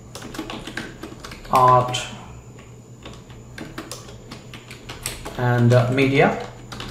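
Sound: typing on a computer keyboard

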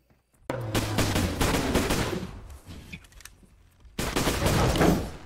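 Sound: flare gun firing in the video game Bigfoot

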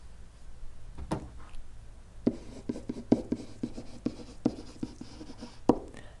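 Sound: writing out an expression

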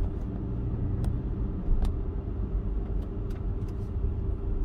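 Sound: truck passing by on a residential street

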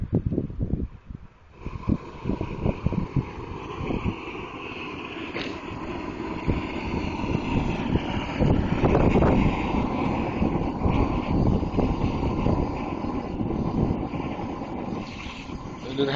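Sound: wind blowing outdoors

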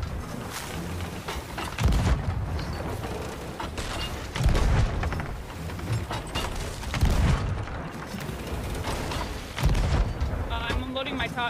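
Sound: ship cannons firing in video game Sea of Thieves

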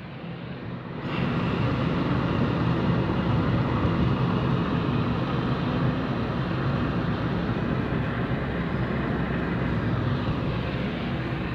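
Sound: airplane flying overhead

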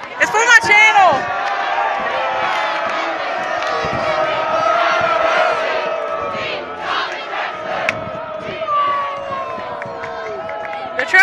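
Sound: high school pep rally crowd chanting and booing

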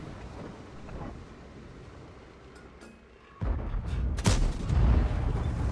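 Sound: Leopard tank cannon shot, from a video game

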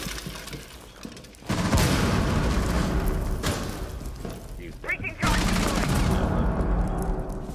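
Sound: grenade explosion in video game Rainbow Six Siege

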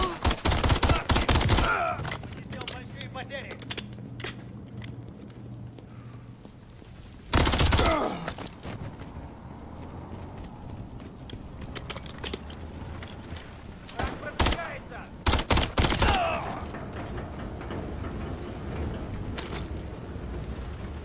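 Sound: enemy gunfire in video game Modern Warfare III

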